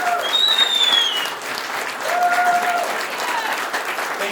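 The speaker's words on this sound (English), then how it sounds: "A round of applause for all of our Attorney General candidates, please." Audience applause at a Rockwall GOP political event for Attorney General candidates, a sustained round of clapping from a crowd indoors lasting several seconds.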